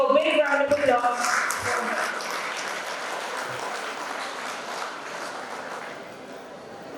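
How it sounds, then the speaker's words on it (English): Audience applause for a guest at a campus-to-corporate panel conclave, starting with a louder burst and tapering into a softer, steady patter toward the end. "let us all give a big round of applause"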